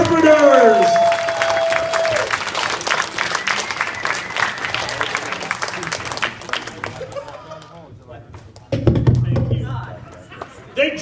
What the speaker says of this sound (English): let's give a huge round of applause for our interpreters